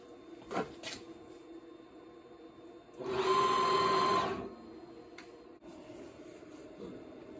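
CNC machine carriage moving along the x-axis during calibration, a short motor whir of about a second and a half between faint clicks and handling noises.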